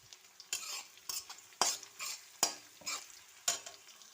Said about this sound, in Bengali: এখন আমি এই যে পেঁয়াজটা প্রথমে একটু লাল লাল করে ভেজে নেব